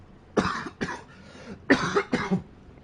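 Two pairs of harsh coughs, close and loud, separated by a short pause.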